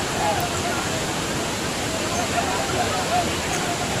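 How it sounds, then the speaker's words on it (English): A waterfall pours down to its lower pool in a steady, dense roar of falling water, loud and continuous, with faint voices of bathers mixed in the background. "how the water is falling down to the lower portion"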